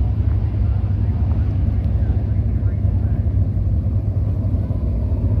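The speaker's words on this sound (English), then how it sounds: "They got somebody already out there racing. Hot lapping." Dirt track race cars hot lap at Cherokee Speedway in Gaffney, South Carolina, their engines a steady, far-off rumble blended with wind buffeting the microphone. No distinct passes stand out.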